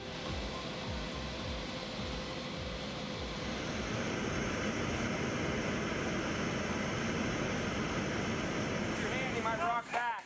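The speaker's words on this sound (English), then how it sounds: "Cargo planes allow even oversized vehicles like this armored Suburban to be available" Loud, steady roar of a cargo airplane's large engines in flight, continuous and close, droning with a broad rumble that barely changes throughout.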